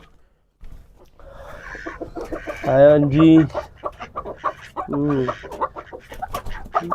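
Chickens cluck nearby with a few louder squawks, while a person speaks briefly over them.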